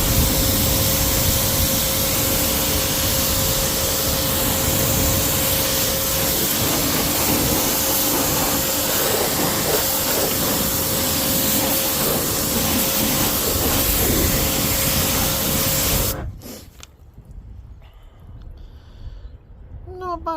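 Water spray rinsing the original wheels of a nine-year-old Ford Mondeo: a loud, steady, close hiss runs continuously for about sixteen seconds, then cuts off abruptly, leaving a much quieter background.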